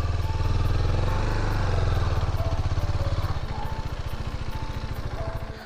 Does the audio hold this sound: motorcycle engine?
yes